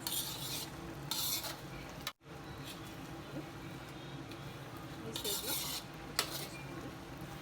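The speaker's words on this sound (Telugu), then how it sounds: "ఇప్పుడు ఇందులో సన్నగా తరిగిన పచ్చిమిరపకాయలు అలాగే కొంచెం కొత్తిమీర వేసేసి ఒక రెండు నిమిషాల పాటు సిమ్లో ఈ విధంగా వేగనిద్దాము" Finely chopped green chillies and coriander frying on low heat in a methi chicken curry, with a faint, steady sizzle and occasional utensil stirring scrapes, quiet and close, broken by a brief dropout.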